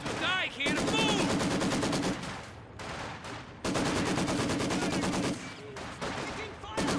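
Rapid machine-gun bursts and rifle fire crackle loudly in a Company of Heroes 2 battle. Shouted voices sound between the volleys, and the bursts come in long stretches with brief pauses.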